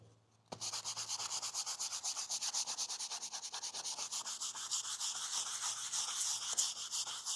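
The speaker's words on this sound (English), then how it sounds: "So let's start sanding it down again. So I will use a sponge to have it a level surface." Light-pressure hand sanding of a Yamaha R 125 motorcycle part with a sanding sponge, a close, steady rapid rubbing with rhythmic back-and-forth strokes starting after a brief pause and continuing throughout, with no talk.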